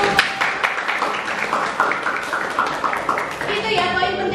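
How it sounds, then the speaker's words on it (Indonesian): A school class clapping together after a simple dance lesson in an arts class, a lively run of many hands clapping close by while children's voices chatter through it. "Oke, tepuk tangan dulu."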